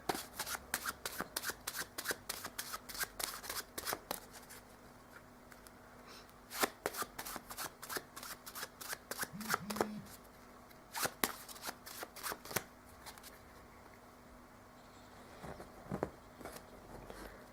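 A pile of playing cards being shuffled during a close-up magic routine, with rapid riffling bursts that come in separate runs, then brief pauses and softer handling ticks between them. No one speaks.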